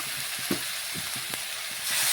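Vegetables coated in turmeric and chili powder fry in a pan while being stirred, giving a steady close hiss with a few soft scraping knocks and a slight swell in sizzle toward the end.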